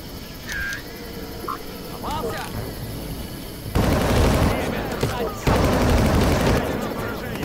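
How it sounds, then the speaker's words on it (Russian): Random gunfire erupts in the video game Far Cry, a dense burst of shots that grows louder and steadier midway, mixed with game ambience and a few other sound effects. "Они начали по мне, открыли беспорядочную стрельбу."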